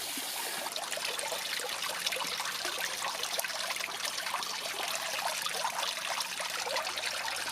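A garden hose runs water into a fish tub outdoors, giving a steady trickling, splashing wash that holds evenly throughout without talk.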